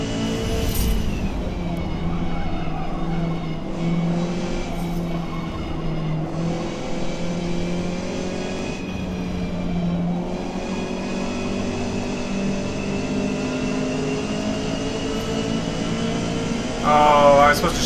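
Race car engine in Forza Motorsport during an online multiplayer race, droning loudly and steadily with shifting pitch as gears change, revving briefly near the end; continuous and close throughout.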